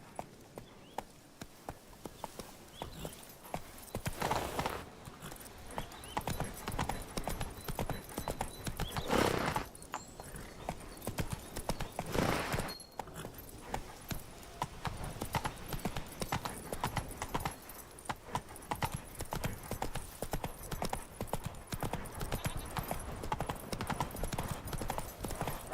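Horse hooves galloping in The Witcher 3: Wild Hunt, a steady rapid clip-clop rhythm close and loud throughout, with a few brief whinnies or rider shouts rising above it.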